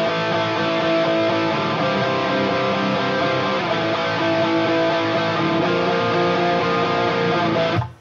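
Electric guitar played through a Mesa amp and a Fractal unit with no 5-band EQ, a thick sustained distorted wash of chords ringing steadily at close range for about eight seconds, then cutting off abruptly at the end.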